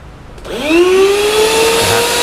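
Shop vacuum hooked up to a small Stanley table saw spins up with a rising whine, then runs at a loud, steady roar close to the mic, without speech.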